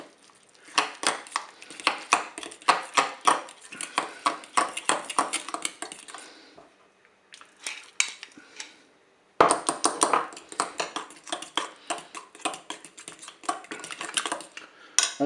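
A spoon scrapes and clinks against a bowl as crushed Roquefort is stirred into crème fraîche, with rapid rhythmic tapping strokes, a brief pause midway, then more brisk mixing, close and fairly quiet.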